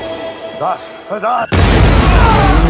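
A sudden loud blast at mid-clip, a small explosive rigged from a mousetrap in the film Nobody, bursts into broadband roaring noise that rumbles on, following a stretch of quieter speech-like sounds.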